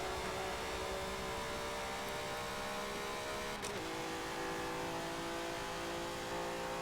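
Koenigsegg Regera racing in the Forza video game, its engine a steady high-pitched whine and roar holding at speed throughout, with a brief whoosh partway through.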